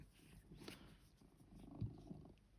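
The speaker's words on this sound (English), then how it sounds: "can you hear her purring?" Soft, low rumbling purr from a pet cat, very quiet and close, with a steady throaty rhythm and a slight bump partway through, no voices over it.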